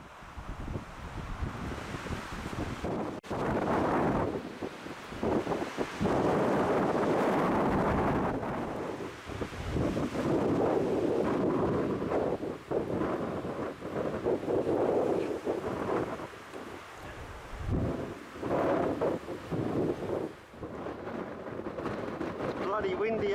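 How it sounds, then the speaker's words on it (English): Strong gusting wind on a hilltop buffets the microphone in loud, uneven roaring bursts with short lulls, and someone speaks at times over the blustery noise. "Bloody windy up here, I tell you."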